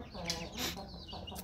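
Chickens cluck in short bursts close by, with a couple of sharper squawks over a steady low background.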